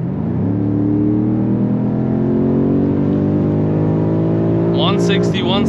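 A 2022 BMW M5 Competition LCI sedan accelerating hard on the Autobahn, its engine note rising steadily in a loud, sustained in-cabin pull, with a brief shift-like dip near the end and a voice talking over it.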